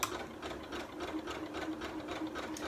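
A sewing machine stitching thin, flimsy fabric for a zip pouch, a continuous rapid mechanical whirring and needle clatter running close and steady throughout, with no talking.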